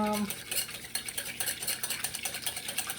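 A mustard vinaigrette for a cucumber, tomato and onion salad is whisked in a bowl, making quick rhythmic clinking and tapping strokes close up that repeat steadily.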